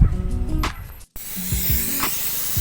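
A sprayer applies herbicide in a field under overcast skies, giving a steady broad hiss with a brief break near the middle, then more spraying and faint low thumps.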